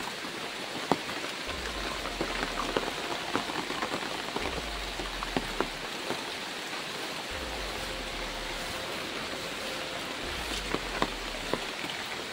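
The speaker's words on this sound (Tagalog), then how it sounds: "Grabe yung ulan mga kaidol." Heavy rain pours down in a dense, unbroken roar of drops close by, loud and steady throughout with a few sharper splashes.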